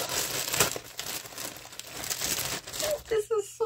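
Plastic wrapping crinkles and rustles up close as a package of yarn is handled and opened, with a voice speaking briefly near the end.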